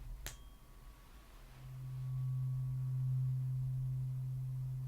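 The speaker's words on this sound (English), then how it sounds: "strike two different tuning forks" A pure, steady tone rings out after a sharp tap, swelling and holding evenly for several seconds without fading.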